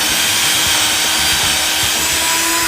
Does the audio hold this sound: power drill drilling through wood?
yes